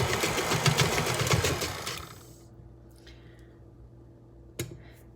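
An electric mixer beats softened butter for old-fashioned tea cakes, whirring loud and close for about two seconds before switching off, leaving a quiet room and one brief knock near the end.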